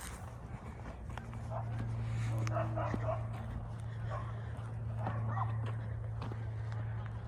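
A dog barks in short bursts at an open, spacious dog park, the sharp yaps landing over a steady low hum and faint background voices.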